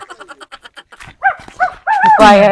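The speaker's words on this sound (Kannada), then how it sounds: "ನಾಯಿ ಬಂತಲ್ಲಿ" A dog gives a quick run of short, evenly spaced yips, then a few louder whining barks and a drawn-out whimpering howl, all close and prominent, with some human voices mixed in.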